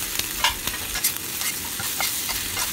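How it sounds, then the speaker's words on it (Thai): Pork roll and holy basil stir-fried in a pan, a dense close sizzle with quick scraping strokes of a spatula against the metal throughout. "แล้วก็ทำการผัดต่อค่ะผัดไปเรื่อยๆนะคะจนกว่าใบโหระพาจะสลดลงไ ป"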